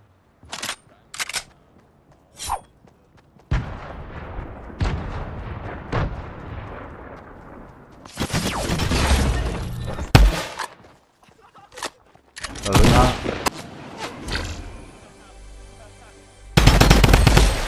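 Bursts of automatic gunfire in a competitive shooter from a cheating player landing headshots, loud near rapid volleys broken by short gaps, with sharp metallic hit dinks mixed among the shots.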